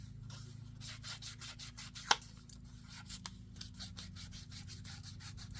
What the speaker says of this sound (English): Rubbing along the edges, it will tear up your sponges a little bit